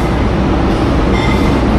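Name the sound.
Singasari economy train riding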